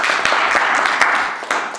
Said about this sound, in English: You don't want people to be clapping.